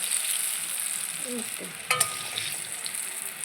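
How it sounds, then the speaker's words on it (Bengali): Long eggplant slices fry in oil with a close, even sizzle and crackle, and a couple of brief scrapes or clinks partway through. "একবার আবার ভাজতে হচ্ছে অনেক লম্বা লম্বা বেগুনগুলো"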